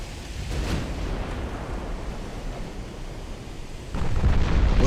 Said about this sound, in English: I'm gonna get nailed by that torpedo.